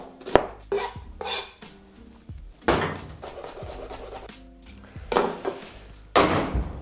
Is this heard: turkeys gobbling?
no